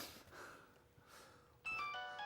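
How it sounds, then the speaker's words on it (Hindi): After a quiet, hissy start, an electronic phone ringtone begins and keeps ringing steadily: a bright, repeating tonal pattern, fairly loud and close. "बेल हो रही है, कोई फोन नहीं उठा रहा।"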